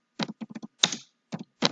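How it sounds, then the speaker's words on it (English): Computer keyboard keys are tapped in short irregular bursts of clicks while data is typed into an Excel results table, close and clear with no talking. "Here I am going to type"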